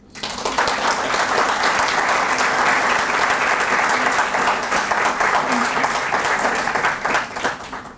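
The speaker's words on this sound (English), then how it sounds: "I want all of you to give them a big round of applause" Big round of applause from an audience at a corporate learning talk, loud sustained clapping that swells quickly and holds steady for several seconds before fading at the end.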